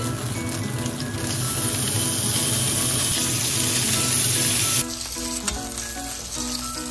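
A pre-cooked Red Dragon teriyaki chicken thigh steak pan-fries with a steady, loud sizzle that changes abruptly near the end into a lower, more broken crackle as the pan is stirred. No voices.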